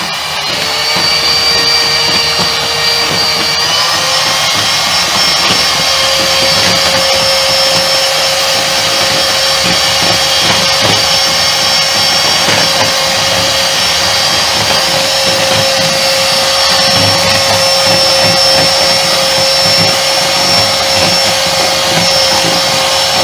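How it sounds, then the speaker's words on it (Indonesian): An electric mixer beats margarine and egg yolk for cake batter during a live baking demo, giving a loud, steady motor whine with a constant pitch that holds almost unchanged throughout and carries no talking. "Di mixer sampai margarinnya pucat"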